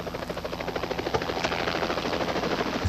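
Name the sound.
search and rescue helicopter flying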